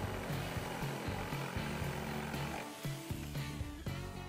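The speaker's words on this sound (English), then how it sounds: "grab a jigsaw and follow the line of the arc that you just drew" A jigsaw cuts along a drawn arc in a wooden baseboard, a continuous buzzing, rattling blade drone with slight pulsing as the cut progresses, heard faintly and alone.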